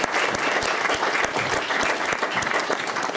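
An audience in a hall claps loudly and steadily, dense applause filling the whole moment with no talk over it.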